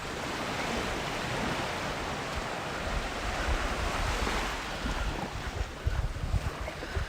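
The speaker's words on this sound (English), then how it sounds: "the sound of the water lapping" Gentle waves wash and lap steadily against the shore, with a constant windy hiss and soft splashes growing a bit louder toward the end.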